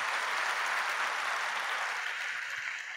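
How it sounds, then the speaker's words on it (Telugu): A church congregation claps together in praise, a dense, steady wash of applause that carries on for the whole stretch and fades slightly at the end. "చప్పట్లు కూడా దేవుని మహిమపరుద్దామా?"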